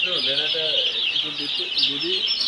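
Young chicken chicks cheep continuously in high, overlapping peeps, close by, with a voice talking underneath.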